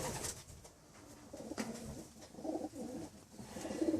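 Soft, low coos from molting racing pigeons repeat several times close by, with rustling and light background noise between the calls.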